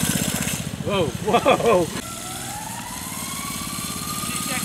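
A small minibike engine buzzes and revs at close range as the rider passes, then fades into a sustained drone with a falling pitch as it moves away. Excited voices shout briefly over the engine.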